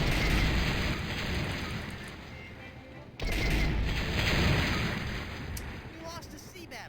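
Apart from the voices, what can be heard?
cannons firing in Monkey Island video game sea battle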